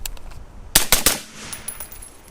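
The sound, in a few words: AR rifle firing with Brownells lightweight bolt carrier group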